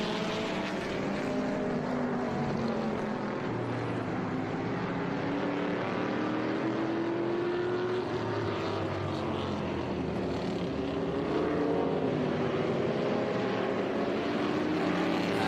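A 1963 Lotus Elan 26R racing during qualifying at Laguna Seca: a steady, loud engine roar with a pitch that slowly rises and falls, mixed with the broad noise of the track and no speech.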